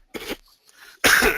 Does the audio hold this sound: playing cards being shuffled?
no